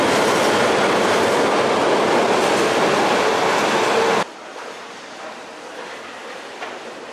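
A German U-Bahn subway train pulls into an underground station with a loud, steady rumble and rattle of wheels on rail. The noise drops abruptly to a quieter background hum partway through.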